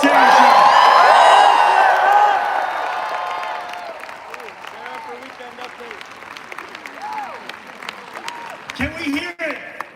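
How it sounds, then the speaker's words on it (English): Rally crowd at Forest Hill Stadium in New York bursts into loud applause and cheering with whoops, strong at first and then thinning into scattered claps and shouts as voices carry over it. "Can we first hear a round of applause for our incredible MC, Sarah?"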